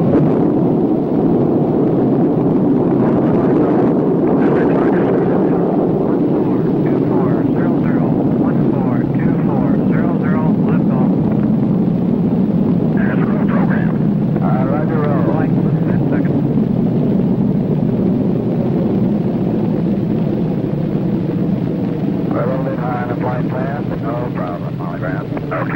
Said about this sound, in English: launched the Molly Brown spacecraft on its three-orbit flight